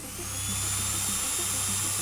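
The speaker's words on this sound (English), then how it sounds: "Proceed to drill the surface." A steady mechanical drilling whine from the surface-drilling step in the video game Stories Untold, a continuous buzzing hum with a low pulsing undertone, moderately loud and unbroken throughout.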